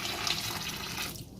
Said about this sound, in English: I'm going to add some meat broth here.